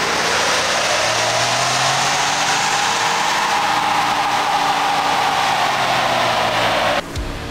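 A 2021 Ford Bronco engine revving up and holding, a rising then sustained exhaust drone with broadband roar, cutting off abruptly near the end.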